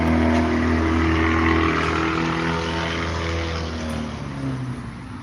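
A loud car pulls away from a Shell gas station, its droning engine roar steady and close before slowly fading a little, heard alone with no talking.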